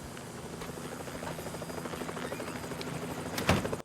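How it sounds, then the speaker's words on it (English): A helicopter drones faintly in the background of a Florida film scene, a steady low rumbling thrum that persists throughout, with a brief thud near the end. "that helicopter is still, like, always in the background"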